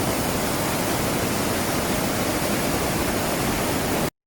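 A glacier-fed meltwater stream at the foot of the glacier in Chamonix rushes in a dense, steady roar of water, loud and close, continuing without a break until it cuts off.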